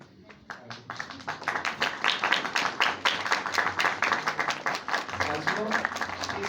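Audience clapping at a religious gathering, starting thin and scattered and then building into a fuller round of applause, with voices audible beneath it.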